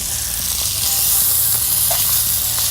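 Chicken pieces browning in hot oil in a pot for a chicken and cider stew sizzle steadily throughout, a continuous, fairly loud frying hiss with no talking.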